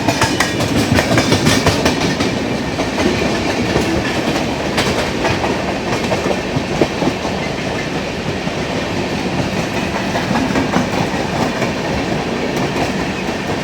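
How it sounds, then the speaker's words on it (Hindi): Howrah Duronto Express, running from SMVT Bengaluru to Howrah, rolls past close by with a steady loud roar and rhythmic clickety-clack of wheels over rail joints throughout, no voices. "सामने से जा रही है हावड़ा दुरंतो एक्सप्रेस।"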